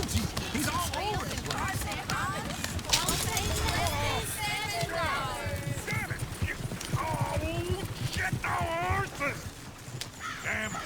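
Horse hooves clip-clop steadily in Red Dead Redemption 2, with an occasional neigh mixed under continuous character dialogue and other game ambience, moderately faint overall.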